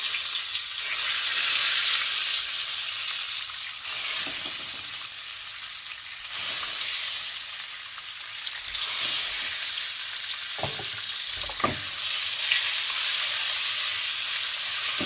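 Eggs coated in turmeric and red chili powder frying in hot oil, a continuous close sizzle and hiss that swells and eases in waves, with a couple of sharp stirring knocks.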